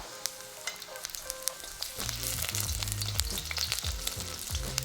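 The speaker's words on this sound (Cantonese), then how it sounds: "爆香下啲姜蒜先嗬" Ginger and garlic hit a hot wok on low or no heat and break into a loud, steady sizzle after a couple of seconds of quiet clicking. The frying continues close by to the end.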